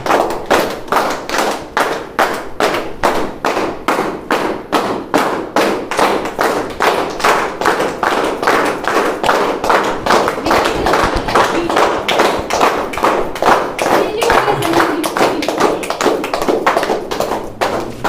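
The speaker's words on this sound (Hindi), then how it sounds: "बाकी लोग जोरदार ताली से सर का स्वागत करेंगे" An audience claps loudly and steadily to welcome a speaker onto the stage at an MLM achievers' event, with dense, rhythmic hand claps sustained throughout and no talking over them.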